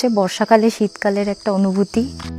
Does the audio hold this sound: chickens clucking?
no